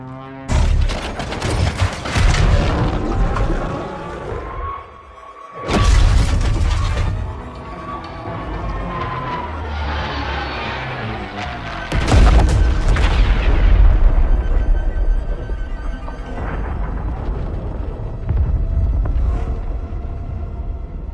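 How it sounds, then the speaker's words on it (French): Explosions and heavy gunfire rage through a battle in the Call of Duty Vanguard video game, loud booming blasts and sustained rumbling combat noise filling the scene, with a big burst near the middle. "Il a explosé."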